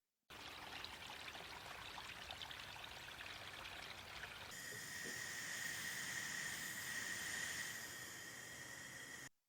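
Beer wort for a New England IPA flows into a fermenter in a steady, continuous pour, a soft, even rushing stream that takes on a brighter, ringing tone partway through as the vessel fills, with no talking.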